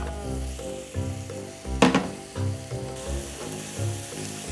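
Broth is poured into a pan of sautéed vegetables for solyanka, giving a loud, steady sizzle with a sharp hissing burst as the liquid hits the hot pan, then continued frying crackle.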